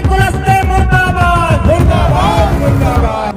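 Thousands of protesters in yellow scarves on the streets of Mandla shout and chant together, a loud, close, continuous roar of many voices with raised cries rising over it.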